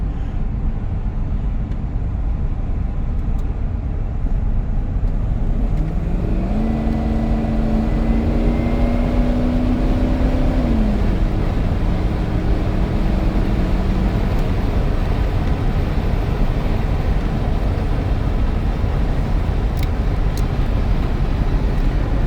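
A 1994 Ford F150 XLT with a 351 V8 cruises down a road under steady road and wind roar, its engine note climbing as it kicks down to accelerate, then settling back into the drone.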